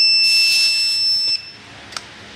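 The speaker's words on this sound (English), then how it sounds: "So the alarm will off." An electronic alarm on a digital tyre pressure monitoring system sounds a steady high-pitched tone for about a second, then stops, followed by a faint click.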